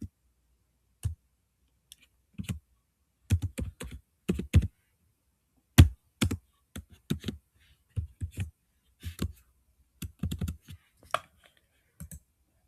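Keys clatter on a computer keyboard as an SQL query is typed, in short irregular bursts of close, crisp clicks separated by brief pauses, with no talking.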